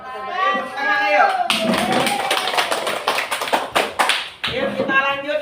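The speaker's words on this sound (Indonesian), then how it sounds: "Tepuk tangan ayo" A classroom of children claps for a student group, a dense burst of close hand claps that rises, runs for several seconds and tapers off, with voices talking just before and after.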